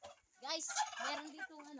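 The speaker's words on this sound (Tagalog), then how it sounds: "ang laki ng pabo" A large turkey gobbles once in a short, rapid, warbling burst, close and fairly quiet, in an outdoor rural home setting.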